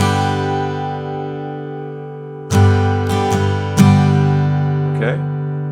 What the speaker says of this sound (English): So your first chord is G.